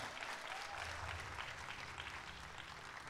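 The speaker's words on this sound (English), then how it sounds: "Please give them a big round of applause." An audience at a 2020 Atlanta corporate promotion ceremony gives a continuous round of applause, the clapping steady and moderately distant throughout with no voices on top.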